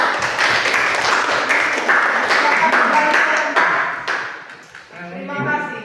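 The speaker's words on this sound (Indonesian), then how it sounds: "mari kita berikan aplaus untuk kelompok 2" A class applauds Group 2 after their school presentation, a dense, steady wash of many hands clapping that holds throughout before thinning near the end, where a voice begins speaking.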